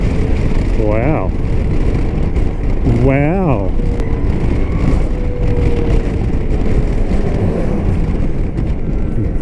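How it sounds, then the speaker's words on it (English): A Zero electric motorcycle's motor whines up and down in pitch twice in the first few seconds while riding, under steady loud wind rush that continues throughout. "I love the sound of that motor winding up and winding down"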